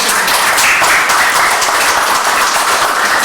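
A school audience claps for a strong participation result, producing a loud, dense wash of applause that holds steady for a few seconds, with no talking over it.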